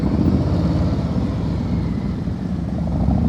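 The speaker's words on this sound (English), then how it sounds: "Sounds like he changed gears." A motorcycle ridden at slow speed through practice gates, its engine rumbling steadily and close by with a slight shift in pitch as the rider changes gear.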